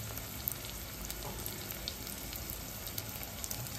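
Cashews fry in a hot pan with grated ginger and green chili while cooking homemade butter chicken, a steady, soft sizzle that runs throughout with a few light pops and clicks.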